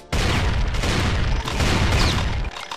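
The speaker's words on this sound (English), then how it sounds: "If you right click with the shotgun, you fire one barrel at a time." Shotgun blasts in the first-person shooter Doom 2 with the Brutal mod, firing one barrel at a time: loud, dense booming shots in a co-op game, continuous and close, ending abruptly.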